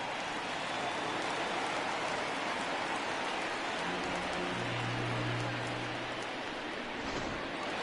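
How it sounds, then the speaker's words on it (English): Steady broadband rain hiss from a baseball game in MLB The Show 20, continuous and moderately loud across the whole stretch, with a low hum underneath and no talk. "It's raining cats and dogs out."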